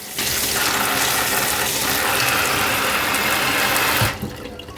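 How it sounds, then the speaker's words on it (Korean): Persimmons are washed under a running tap, a steady rushing splash of water into a sink for about four seconds before the flow cuts off, heard close with no talking. "이렇게 깨끗이 씻어서 물기를 쪽 뺐어요"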